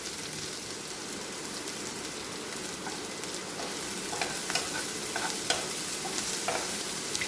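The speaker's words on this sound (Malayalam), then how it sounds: "ഇനി ഇതെല്ലാം കൂടി നന്നായിട്ടൊന്ന് മിക്സ് ചെയ്യട്ടെ." Black chickpea curry masala with salt is stirred in a hot pan, giving a continuous close sizzle with scraping and spoon clatter that grows slightly busier toward the end.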